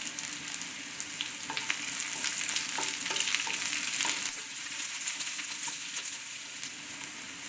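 Curry leaves are dropped into a hot mustard seed tempering and sizzle steadily, a bright continuous crackle with a few small pops and light stirring, close and alone with no talk.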